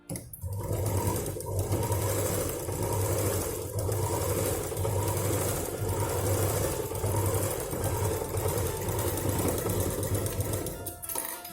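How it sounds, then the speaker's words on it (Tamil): A sewing machine runs steadily, stitching fabric for a handmade mini zippered shoulder bag, its motor humming with a rapid needle rhythm for nearly the whole stretch before slowing at the end, close and clear. "திருப்பி வச்சு இங்கேருந்து இங்கே வரைக்கும் ஒரு படிமான தையல் போட்டு எடுத்துக்கலாம்"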